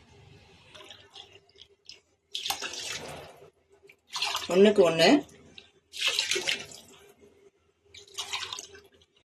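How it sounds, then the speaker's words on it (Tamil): Water splashes into a pot of biryani in several separate pours, loud and close, with a voice talking between and over the pours. "இப்போ தண்ணி ஆட் பண்ணிக்கலாம்."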